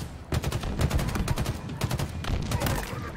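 Bursts of rapid gunfire from a Halo campaign battle on Legendary difficulty, repeated volleys of sharp shots in quick clusters, loud and close, with a voice faintly underneath.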